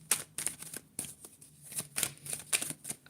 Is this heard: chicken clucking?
no